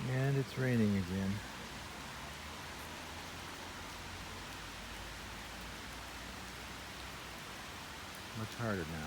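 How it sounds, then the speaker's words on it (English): Rain falls in a steady, moderate hiss with a low rumble beneath it, and voices talk briefly at the start and the end. "And it's raining again."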